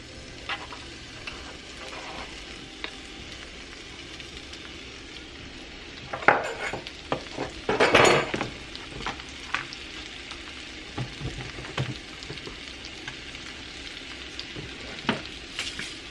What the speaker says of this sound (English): So here I have cut up some mushrooms, some tomato, and some green onion. I'm going to add the mushrooms first.